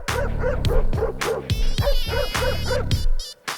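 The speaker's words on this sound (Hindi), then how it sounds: "इस घर में एक कुत्ता है" A dog barks repeatedly in a Telugu comedy film scene, short loud woofs and yips in quick bursts with a whimper, mixed with a musical score and no clear talk.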